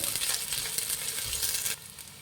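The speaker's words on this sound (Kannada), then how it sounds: "ಕ್ಯಾರೆಟ್ ಕ್ಯಾಪ್ಸಿಕಮ್ ಹಸಿಮೆಣ್ಸಿನ್ಕಾಯಿ ಇದೆ ಇದು ಎಣ್ಣೆಲಿ ಚೆನ್ನಾಗಿ ಫ್ರೈ ಮಾಡಬೇಕು" Carrot, capsicum and green chili frying in hot oil for hotel-style egg fried rice, a loud steady sizzle with stirring that drops to a quieter hiss near the end, no talking.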